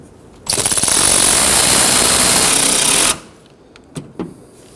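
A power tool snugs down fasteners on a Ford Edge during active grille shutter work, one loud steady whir lasting about two and a half seconds, then a few faint clicks afterward.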